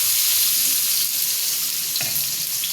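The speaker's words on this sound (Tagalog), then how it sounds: "Wait na lang natin na mag-brown din ang sibuyas." Onions fry and brown in a pan, a dense, loud, continuous sizzle up close with small crackles and spatters and no voices.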